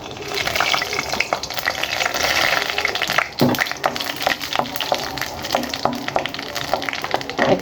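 Dry red chilies and panch phoron frying in mustard oil in a wok, a steady close sizzle and crackle with occasional utensil clinks throughout.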